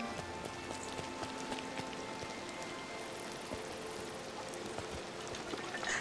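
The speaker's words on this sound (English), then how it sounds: "Nothing like the rain to wash your worries away." Rain patters steadily on surfaces in the Disney Dreamlight Valley video game, a soft, continuous drizzle of scattered droplets with faint tonal game ambience underneath and no voices.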